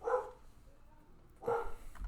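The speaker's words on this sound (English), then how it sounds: "My dog is just loud." A dog barks from behind a closed door a little way down a hallway, two muffled, fairly loud woofs about a second and a half apart.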